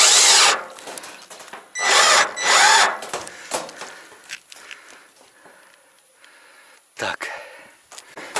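Power screwdriver driving short self-tapping screws into metal roofing tiles, three loud bursts of whirring early on, then quieter clatter and handling noises with another short burst near the end.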